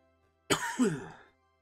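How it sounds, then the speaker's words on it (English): A single rough cough with a throaty clearing follows, close and fairly loud, then fades out. "I cannot stop coughing all of a sudden."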